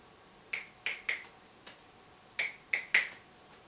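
Crisp finger snaps from the left hand during juggling practice pop out one at a time at an uneven pace, seven sharp snaps in all, close and clear over near silence.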